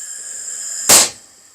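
Bostitch floor nailer struck with a hammer and firing: one sharp, loud crack with a hissing release, alone over faint background hiss from a small compressor set at 80.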